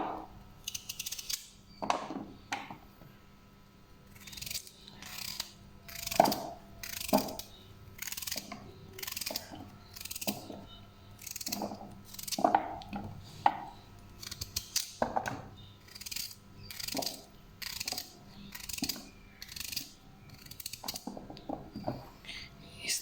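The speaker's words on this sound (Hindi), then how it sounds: "इस तरह से बारीक बारीक लंबाई में बारीक कट कर लेंगे।" A knife slices a turnip lengthwise into thin strips on a board, making a run of crisp, close chopping clicks in an irregular rhythm, with faint speech heard between the cuts.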